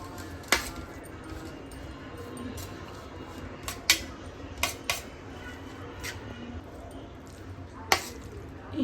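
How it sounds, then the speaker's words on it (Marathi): A spoon stirring milk into sweet poha in a home kitchen, with scattered sharp clinks of metal against the vessel over a steady low background, a few taps spaced irregularly across the stretch. "चमच्याने ढवळत राहायचं"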